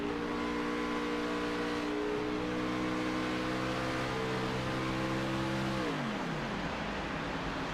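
A race car engine in a sim racing game drones at steady half throttle through a series of esses, its tone holding level before dropping sharply as the throttle eases off.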